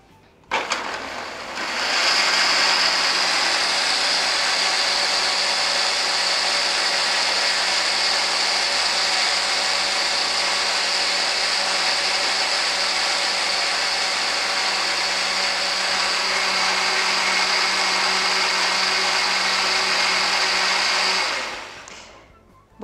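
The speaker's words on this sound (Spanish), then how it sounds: "Y vamos a licuar." A countertop blender blends a thick sesame and oat shake, starting abruptly and running at a steady high-pitched whir for about twenty seconds before cutting off, loud and alone.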